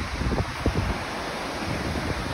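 Skógafoss waterfall in Iceland roars as a steady, broad rushing wash of falling water, loud and continuous with gusts of wind noise buffeting the microphone.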